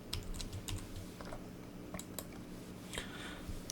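Quiet clicking of a computer keyboard as someone types into an Excel spreadsheet, irregular light taps in short bursts, close and alone.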